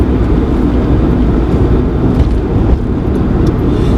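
Inside a car pulling away in a 40 zone, a steady low engine and road rumble fills the cabin through the shift up into third gear, with no voices.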